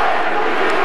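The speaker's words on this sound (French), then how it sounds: "un mélange de cris dans la foule entre UFC et GSP" Arena crowd at a UFC event in Las Vegas for Georges Saint-Pierre versus Matt Hughes, roaring in a dense, continuous wash of shouting and mixed chants, loud and steady throughout.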